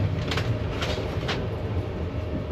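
Steady, close rumble of a crowded passenger train running through Germany toward the Polish border, heard from inside a carriage as continuous low-pitched rolling noise, with no speech.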